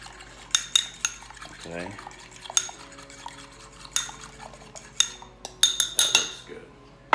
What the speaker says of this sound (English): I'm just going to beat the egg with a fork just like this